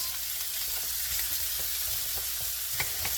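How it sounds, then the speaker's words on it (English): Sausage sizzles and browns in a pan for black-eyed peas with greens, a steady bright frying hiss with small crackles and pops scattered throughout, close and continuous with no talking. "Now, I'm going to put the sausage in and let it brown a little bit."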